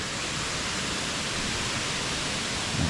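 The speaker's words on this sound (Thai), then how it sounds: "นู่นอันนู้นก็เป็นสายน้ำของน้ำตกตาดหมอกครับ" Tat Mok waterfall in Thailand flowing in the distance: a steady, even rush of water, broad and hissing, constant throughout with no voices over it.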